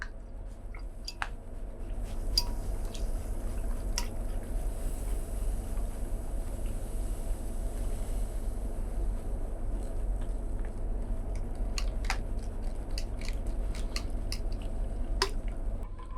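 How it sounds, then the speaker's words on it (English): A thermometer stirs film developer chemicals in liquid, giving scattered faint clinks and soft watery swishes over a quiet, steady room hum. "I've used the thermometer before. All right, so we're going to start stirring and we're going to add."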